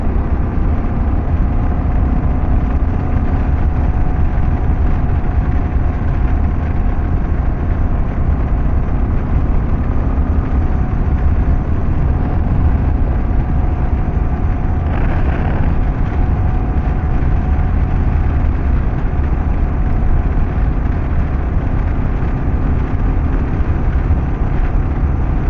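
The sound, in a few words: Kawasaki KLR650 motorcycle engine riding two-up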